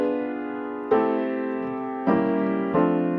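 Piano chords play a melody in locked hands voicing, the melody doubled in block chords; three sustained chord strikes ring out alone, each decaying before the next.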